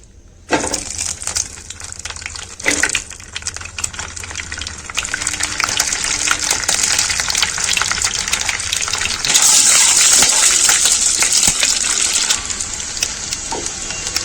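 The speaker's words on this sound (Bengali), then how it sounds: "আগে থাকতে আমি আলু ডিম সেদ্ধ করে রেখেছি, এটা ডিমটা ভেজে নেব।" Boiled eggs hit hot oil in a heated kadai with a sudden loud hiss that settles into a dense, steady sizzle and flares brighter partway through, with no speech.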